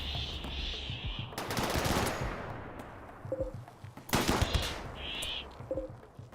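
Turrets fire in Rimworld Odyssey during a mechanoid attack, with bursts of rapid automatic fire swelling and fading over a steady background, plus brief high electronic tones.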